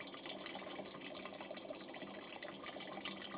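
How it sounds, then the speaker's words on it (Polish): River water pours and trickles through the filter of a camping shower bag outdoors, a steady close splashing flow that continues throughout without voices. "Filtr już pracuje, przelewa."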